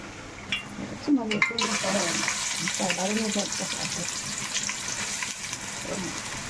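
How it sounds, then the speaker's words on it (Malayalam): Onions frying in sunflower oil in a heated urali pan, a steady dense sizzle that runs throughout, with a voice speaking briefly over it. "സബോള ഇട്ട് കൊടുത്തിട്ടുണ്ട് ഇനി സബോള ഇട്ടിളക്കി നമുക്കൊന്ന് ഒന്ന് വഴന്ന് വരട്ടെ"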